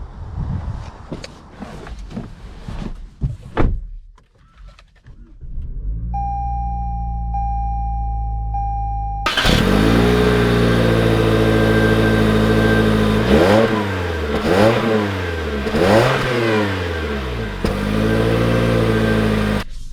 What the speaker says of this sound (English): let's take this Corolla Nightshade package out to see how it drives